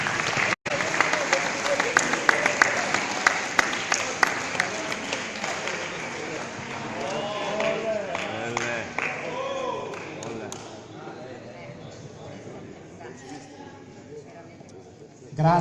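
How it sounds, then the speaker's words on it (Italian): Audience clapping at an award ceremony for a sports team from Slovenia, steady applause that gradually thins out, with someone speaking over it toward the end. "ancora un applauso agli amici sloveni"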